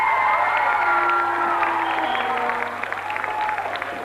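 A studio audience at a live broadcast applauds and cheers the teacher, a broad wash of clapping and whoops with voices rising above it, gradually easing toward the end.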